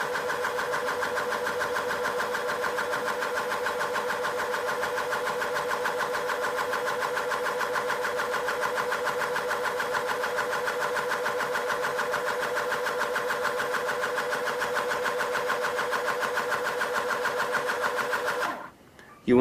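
An electric pressure calibration pump runs steadily with a mechanical buzzing drone while building up to 200 psi, then cuts off abruptly near the end.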